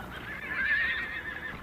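Wild American horses neighing, one drawn-out whinny rising and falling for over a second, moderately close and alone without voices.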